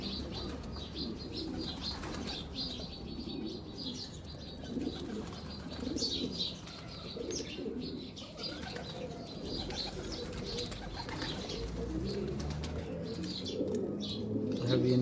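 Racing pigeons coo repeatedly at close range around a feeding spot, soft rhythmic calls with some chirps and wing flutters, while a person speaks now and then.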